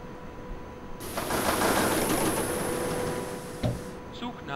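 U7 subway train in ProTrain Perfect 2 braking, a steady broadband rumble and hiss that swells, holds, then cuts off abruptly with a final clunk, alone without talk.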